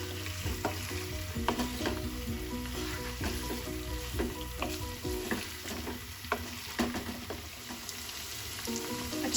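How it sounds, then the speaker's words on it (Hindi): Chicken karahi sizzles steadily as pieces fry in a pan, with repeated clattering stirs and scrapes of a utensil throughout and no voices. "इसको इतना हिलाना है कि जितना चिकन अपना जब तक चिकन अपना रंग"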